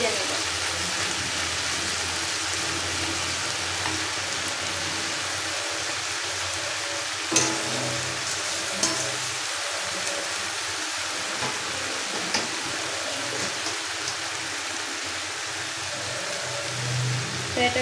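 A banana flower (mocha) frying in a pan gives off a steady, even sizzle like soft hiss, constant at moderate loudness, with a few small pops and clicks scattered through it.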